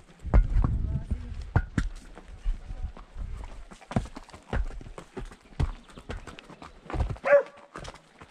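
A ridden horse's hooves clop in an uneven, steady rhythm on hard ground at a ranch, with faint voices in the background.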